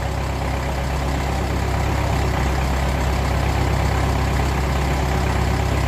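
The diesel engine of a 1954 Ferguson 20 TEF tractor runs steadily close by, a loud, continuous low rumble with an even idle throb and no pauses.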